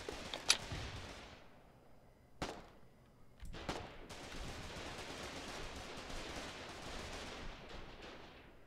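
Gunfire in the war game Foxhole: a few sharp, distant shots crack out early, then a burst of rapid shots over a dense, noisy battlefield background.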